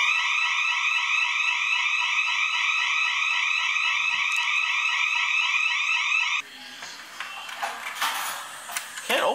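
A loud electronic house alarm beeps continuously in a steady pulsing tone close by, then cuts off abruptly, leaving quieter room noise and movement.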